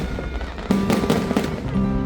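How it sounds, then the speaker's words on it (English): New Year fireworks burst over a river at a lantern-lit celebration in Chiang Mai, a series of loud, crackling booms in quick succession over a busy crowd background. "Fireworks burst above the pink river, reflecting off the water, blending with the fading lantern lights above"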